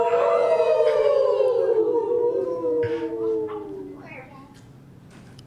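A person imitates a wolf howl with one long, loud, wavering howl that slowly falls in pitch and fades out.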